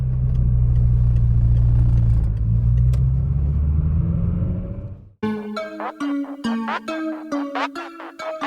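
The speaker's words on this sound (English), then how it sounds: "Doing 50 mile an hour, but this car, 4th gear, 5th gear, it pulls pretty much from 3000 RPM upwards" A Peugeot 206 GTI driving on the road during a North Coast 500 road trip, its engine giving a loud, low droning rumble for about five seconds before the sound abruptly switches to tonal music.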